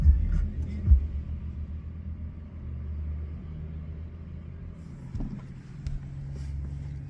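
Low thumping from an aftermarket amplifier in a 2023 Ram 1500 after the truck is switched off: a couple of distinct bass thumps over a steady low rumble, close and moderately loud, with no talk.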